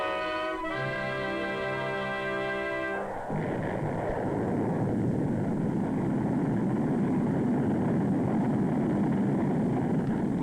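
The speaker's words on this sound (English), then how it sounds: "February 1962, John Glenn rode this Atlas rocket into space for a 3-orbit flight around the Earth" An Atlas rocket launch in 1962 for a three-orbit Mercury flight, a broad loud roar that surges in after a brief tonal passage and holds steady and powerful to the end.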